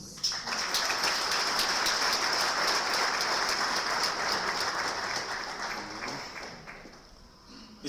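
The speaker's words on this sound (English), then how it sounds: "Let's break the ice with a truly Cape Townian round of applause." A Cape Town audience gives a long, dense round of applause at a religious peace gathering, steady and full for about six seconds before tapering off near the end.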